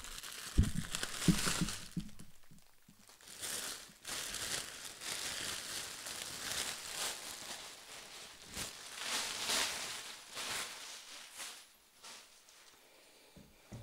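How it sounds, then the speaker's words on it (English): A large plastic bag from an unboxed Harley Benton guitar crinkles and rustles close up in irregular bursts, crackling louder at moments and pausing briefly, with no talking. "Big plastic bag."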